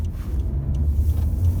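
A Honda Civic with a 1.5 VTEC turbo engine pulls hard under full throttle, a deep, steady engine drone heard from inside the cabin without talk.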